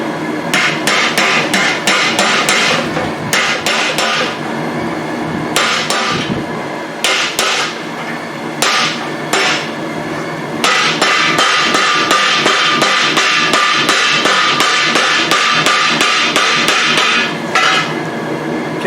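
Repeated hammer blows ring out on a blunt punch while tongs are forged at a blacksmith's anvil, loud metallic strikes in quick uneven bursts with brief pauses between runs.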